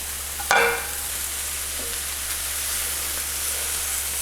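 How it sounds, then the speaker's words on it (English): Shrimp hit a hot skillet of charred Mexican street corn with a sharp clatter, then a steady close sizzle and hiss continues alone as the pan keeps frying. "I'll add our shrimp back to the pan."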